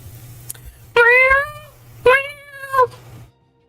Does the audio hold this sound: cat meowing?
yes